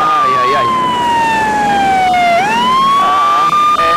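A loud wailing ambulance siren sweeps slowly down in pitch, then rises again, close by and continuous, with faint voices underneath.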